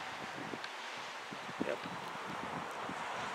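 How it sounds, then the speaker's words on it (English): Wind gusting through trees in a park just after rain, rustling leaves and buffeting the microphone in a soft, uneven rush; one short spoken word comes in partway. "It's really windy out here right now."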